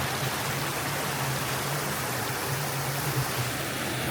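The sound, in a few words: waterfall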